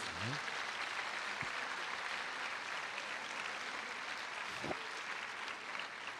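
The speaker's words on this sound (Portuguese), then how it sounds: "Pode aplaudir o Padre Marcos, que ele tem Deus" Catholic congregation applauding a priest during a Sunday teaching, a faint, distant patter of clapping spread through a large room, steady throughout with a couple of brief thumps and a low hum beneath.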